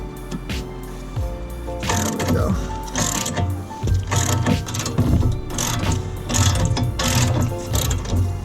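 A ratchet wrench clicks in repeated bursts as bolts are tightened during a brake caliper install on a Nissan 350Z, close and loud, with pauses between strokes and some workshop clatter.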